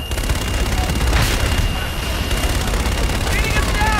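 Sustained artillery and gunfire in a fire-mission scene from the video game Call of Duty: Infinite Warfare, a dense, continuous rumble of shots and blasts with voices speaking over it throughout.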